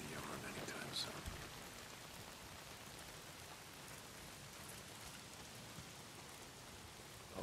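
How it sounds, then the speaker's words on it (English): Heavy rain pours in the video game Days Gone, a steady, faint hiss of downpour that fills the whole stretch and stays even throughout. A brief muffled thump comes near the start, and nobody speaks. "not if it's pissing down the rain"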